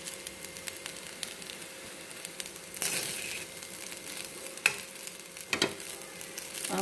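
Jeera rice with coriander stirred in a pan, with soft scraping and a few louder spoon scrapes over a low, steady sizzle.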